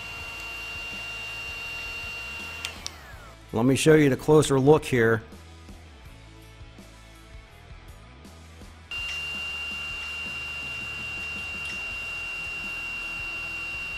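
A DeWalt cordless heat gun whirs with a steady, high-pitched whine, running first on its high setting and later on low, with someone talking over a quieter stretch in between.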